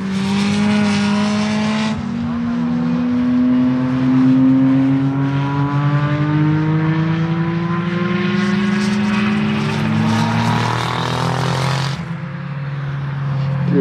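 A turbocharged 2.5-litre inline six-cylinder race car engine drones loud and steady, its pitch climbing smoothly through long pulls with a brief drop near the start and a sharp cut at the end.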